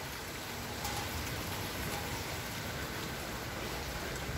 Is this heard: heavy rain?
yes